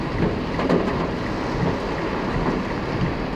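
Heavy rain pours steadily in Dolores, making a dense, even hiss with no let-up over a few seconds and no voices.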